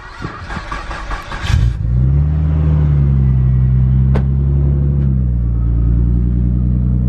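A Nissan Skyline R34 with a titanium exhaust cranks and fires up after some talk, then settles into a loud, steady, deep idle rumble that holds to the end.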